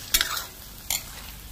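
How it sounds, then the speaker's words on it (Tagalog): A spoon stirs mung bean soup slowly in a pot, making two distinct scraping strokes against the metal with a faint simmering hiss underneath, close and fairly loud. "I-mix muna natin dahan-dahan"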